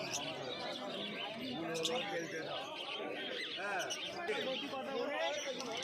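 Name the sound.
finch birds chirping at a pet market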